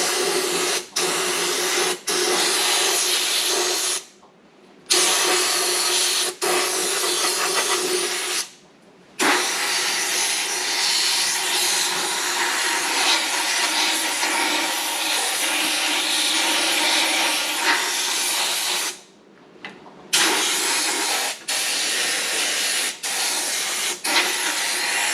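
An air-powered sprayer hisses steadily at about 55 psi as it coats a truck's underside with lanolin-based undercoating, the loud spray broken by a few brief pauses and quick trigger cuts.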